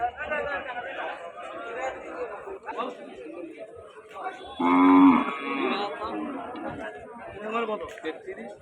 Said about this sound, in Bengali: একটা গাই বাচ্চা, প্রচুর গরু, প্রচুর।